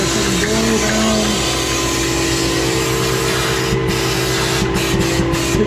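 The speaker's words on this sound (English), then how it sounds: "The vacuum is sucking the stuff out." A vacuum sucks rat-nest debris out of a hole in the chassis of a 1959 Chevy, producing a loud, continuous broadband roar with a steady hum that runs throughout without letting up.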